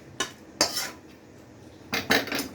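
Coriander leaf chicken poured out of a pan, with several loud metallic scrapes and clatters of a utensil against the cookware in short bursts separated by quiet pauses.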